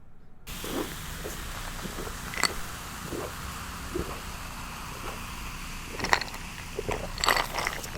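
Soft crunchy bites and chewing of BHC Puringkle boneless fried chicken, close up, several faint crunches spread over a low steady background hiss, with no speech.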